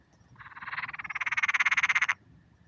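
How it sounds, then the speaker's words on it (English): A frog perched in a tree gives a single rising, pulsing croak lasting about two seconds, close and clear against a quiet night background. "Seems to be pretty much every stealth camp or camp I go on, I seem to find a frog"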